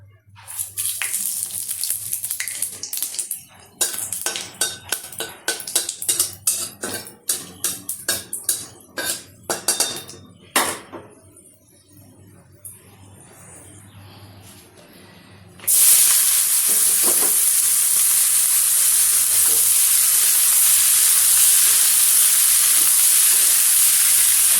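Chillies are tempered in a hot kadhai, first crackling and spitting in sharp, irregular pops, then a brief quieter moment, before a loud, steady sizzling hiss takes over and continues to the end.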